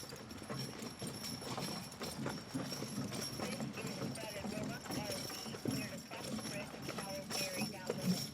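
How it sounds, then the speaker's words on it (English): A pair of bay horses pulling a carriage over stone roads, their hooves clip-clopping steadily and close by while someone talks over them throughout. "That pair of bay horses right there, that's Fred and Wilma."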